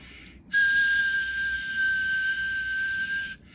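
A single sustained whistle, steady and unwavering in pitch, rings out for about three seconds through a hissy Courier Gladiator CB radio channel that cuts in and out around it.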